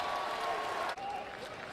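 Longhorn fans applauding and cheering at a Texas college baseball game against Tennessee, a crowd of about 16,000, with a broad steady roar that briefly dips and then carries on under a commentator's voice.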